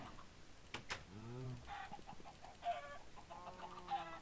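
Chickens in the video game Minecraft give a few short, quiet clucks and squawks scattered over a faint game background, with no speech.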